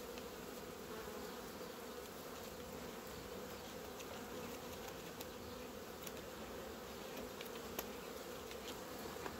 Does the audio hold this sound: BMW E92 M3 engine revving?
no